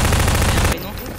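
Gunfire in the video game Garry's Mod: a loud, dense rattle of rapid shots that cuts off abruptly partway through, leaving quieter background noise.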